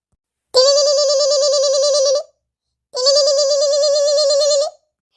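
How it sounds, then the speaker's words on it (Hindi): A phone rings in two long electronic trills separated by a brief pause, loud and close, with no voices. "देखो भौजी के फोन आवता है, उठा लियो"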